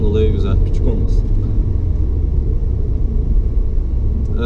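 Opel Corsa E 1.4 Ecotec automatic car driving over a speed bump, heard from inside as a loud, steady low road rumble and engine drone with a brief jolt early on, under faint talk.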